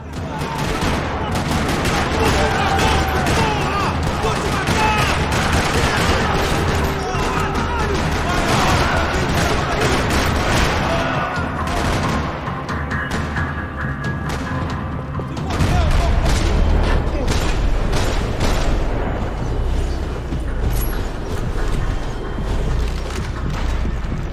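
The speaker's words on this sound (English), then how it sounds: "Another parking lot rattling with gunfire." Heavy gunfire rattles across a São Paulo parking lot in Max Payne 3, dense overlapping bursts and booms running continuously, with a deeper, louder volley swelling near the end.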